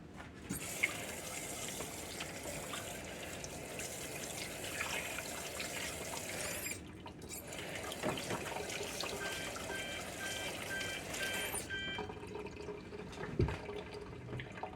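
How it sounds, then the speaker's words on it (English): Running tap water splashes over hands being washed in a kitchen, a faint, steady trickle with small drips and a brief pause around the middle. "let me get my hands washed up"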